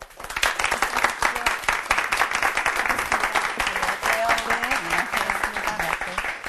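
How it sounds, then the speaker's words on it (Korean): An audience at a leadership lecture applauds to welcome a speaker with steady, loud, dense clapping, and a voice speaks over the clapping near the end. "큰 박수로 맞아주시기 바랍니다."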